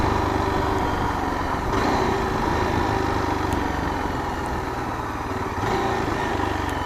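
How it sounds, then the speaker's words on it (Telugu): A Yezdi Adventure motorcycle engine drones steadily and fairly loudly while slowing under engine braking without the brakes, with rushing wind noise and no voices. "అయిపోయింది స్లో వితౌట్ యూజింగ్ బ్రేక్స్."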